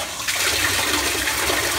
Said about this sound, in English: the float valve activates, filling up the tank once again